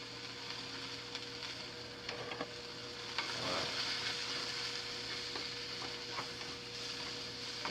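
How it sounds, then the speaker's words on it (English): Mushrooms fry in a cast iron pan, giving a steady soft sizzle with faint clinks and scrapes as they are stirred, fairly quiet and continuous with no talking. "Make sure I stir my mushrooms so they don't"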